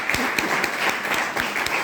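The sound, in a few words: audience applause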